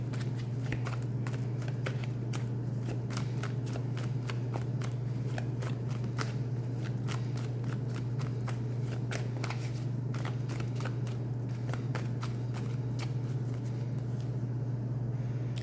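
Tarot cards shuffled by hand in a continuous run of crisp, rapid riffling flicks over a steady low hum, close and fairly quiet, with no talking.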